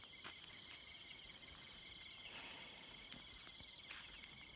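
Crickets chirp at night around a field hut on a farm, a faint steady high trill with soft repeated pulses, distant and continuous with no other sounds.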